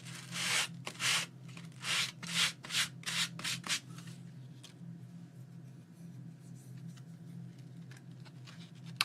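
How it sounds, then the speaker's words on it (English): A C6 sanding block rubs across the pages of a handmade art journal in about eight quick, rhythmic, close strokes, then gives way to fainter, scattered scratching. "This is a C6 sanding block."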